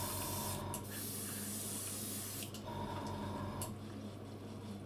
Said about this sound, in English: Now I'm putting this on fairly thick here just because I've got to fix up the spraying from the other airbrush